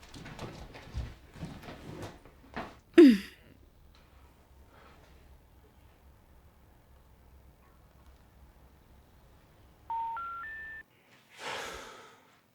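A phone call being placed: after some rustling and a brief whoosh, three rising electronic dial tones sound in quick succession, fairly faint, followed by a short burst of noise.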